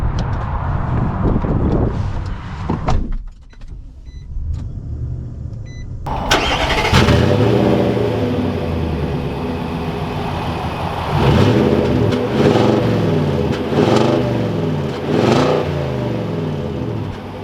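A Nissan Titan Pro-4X truck's engine starts and settles into a steady drive, the mid-pitched engine rising in a few revving swells, heard from inside the cab, close and loud.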